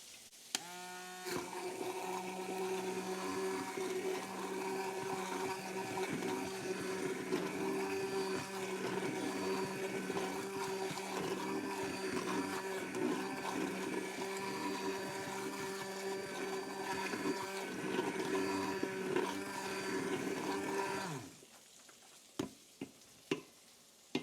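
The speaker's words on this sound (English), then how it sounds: "I'm gonna go in here with an immersion blender just to get everything" An immersion blender whirs steadily for about twenty seconds while blending a garlicky butter chicken sauce, then cuts off, leaving a few clicks and taps.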